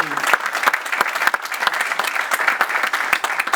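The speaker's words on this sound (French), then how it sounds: "Donc je propose qu'on applaudisse un petit peu le pays." A conference audience breaks into clear applause, a brisk patter of individual hand claps with some uneven spacing between them. The claps are close and moderately loud, and no voices come through.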